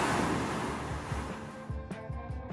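Ocean surf along the New Jersey coast near Barnegat Bay, a steady broad wash of waves with wind noise over the microphone and a low engine-like rumble, heard from aboard a boat.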